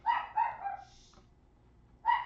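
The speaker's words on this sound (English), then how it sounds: "And there go the dogs." Dogs barking indoors at moderate distance: three sharp barks in quick succession, a pause, then another bark, with no talking.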